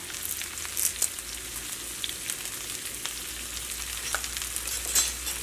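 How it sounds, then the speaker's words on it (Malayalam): Ginger, garlic, green chili and curry leaves sautéing in a pan for an onion-free chicken curry, a soft, low sizzle with occasional light crackles and spoon taps, quiet and close, no voices. "ഇതെല്ലാം കൂടിയിട്ട് നന്നായിട്ടൊന്ന് വഴറ്റിയിട്ട് എടുക്കുക"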